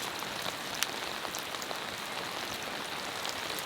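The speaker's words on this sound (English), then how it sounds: "It's so loud, the rain." Rain drums steadily on a car and a stretched tarp at a rainy car-camping spot. The hiss is dense and even, with sharper individual drops tapping close by, and no voices are heard.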